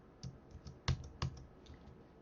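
Typing JavaScript code on a computer keyboard, a few scattered key clicks with one or two louder keystrokes, close and fairly quiet, with no talk.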